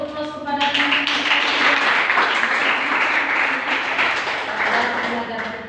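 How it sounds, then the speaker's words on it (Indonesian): An audience applauds students in a university lecture, with dense, sustained clapping after a short lead-in, loud and close, and talk briefly mixed in. "Kita berikan dulu aplaus kepada"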